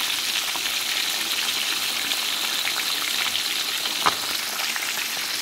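Food frying in a pan for a home-cooked lunch, giving a steady, close sizzle with a bright crackling hiss that runs evenly throughout, one slightly sharper pop near the end, and no talking.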